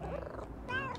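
A cat purrs in the game Little Kitty, Big City, a short, close, low rumbling purr with a brief higher mew-like tone near the end.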